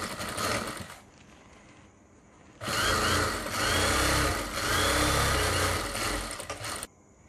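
An electric sewing machine stitches a fabric sofa cover, a steady mechanical whirring in long runs with a pause early on, then a sustained loud stretch of stitching that stops near the end.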